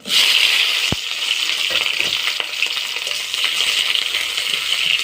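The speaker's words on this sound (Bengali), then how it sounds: "কড়াইতে তেল গরম হয়ে গেছে দিয়ে দেবো পেঁয়াজ কুচি আর কাঁচা লঙ্কা কুচি" Chopped onion and green chilli hit hot oil in a wok with a sudden crackle, then sizzle steadily and loudly throughout, with a sharp clink near the start and no voices.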